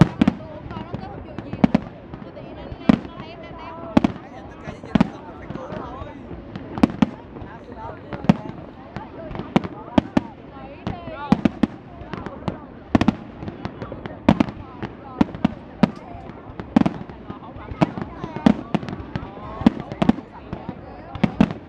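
Fireworks burst over the Dalat flower festival in 2015, a long run of sharp booms and crackling pops at irregular intervals, some close and loud, with people chatting between the blasts.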